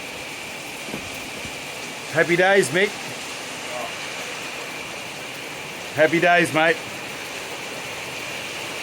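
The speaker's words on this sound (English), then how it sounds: "Bring on the rain." Steady rain falls outdoors as a thunderstorm moves in, a constant soft hiss that runs throughout, broken by two short bursts of someone talking.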